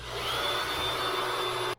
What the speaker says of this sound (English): The holes are drilled